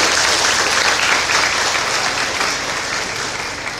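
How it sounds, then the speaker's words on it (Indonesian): A youth celebration crowd in a church setting gives a loud, continuous round of applause, dense and even throughout, tapering slightly toward the end. "tepuk tangan aja buat mereka berani"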